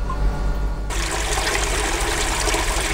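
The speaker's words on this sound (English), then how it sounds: "It trickles through three tiers with BHM in there, or cinder blocks, whatever you want to call them, and then into here" Water trickles through a Bakki shower koi pond filter with tiers of cinder-block media, a steady rushing splash that swells abruptly in and then holds loud and close, with no talking.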